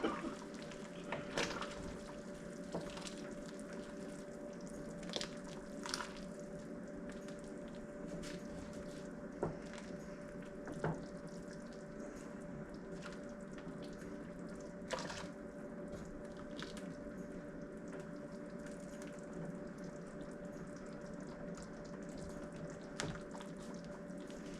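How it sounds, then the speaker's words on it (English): Hong Long goulash in a pot is stirred, giving faint, intermittent wet squishes and scrapes against a steady low kitchen hum. "I figured it's time to come and stir the pot"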